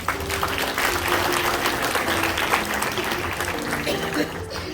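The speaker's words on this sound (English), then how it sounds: "Let's have a round of applause for our volunteers." An audience at a high school production of Clue The Musical applauds its volunteers, a steady full clapping that blends with musical tones and stage chatter throughout.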